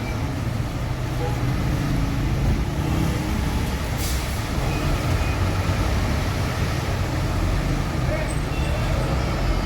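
A Harapan Jaya coach bus reverses and its exhaust gives a broad, steady rushing roar under general roadside traffic noise, close and continuous, with voices faintly in the background.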